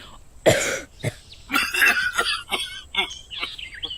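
Several harsh coughs and throat-clearing sounds come one after another, close and fairly loud, with short pauses between them.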